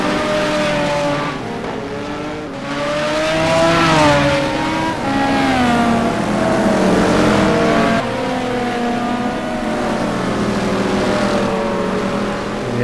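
Race car engines in the sim racing game simGT at the Spa circuit, with Mercedes-Benz, BMW and Aston Martin cars in an endurance race: a steady loud engine drone rising and falling in pitch as cars rev, shift and pass.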